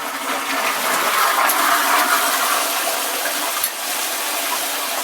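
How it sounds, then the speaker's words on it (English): A toilet cistern refills through an old-fashioned brass ball cock valve, making a continuous loud rushing, hissing flow of water nearby that stays steady throughout without any voices. "you can hear the water coming in to refill it"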